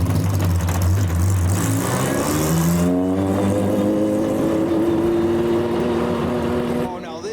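A Jaguar XJR-15 hypercar with a V12 engine drives past on a public road in a convoy of hypercars, its loud engine note climbing then settling into a steady drone, close by with a voice briefly over it.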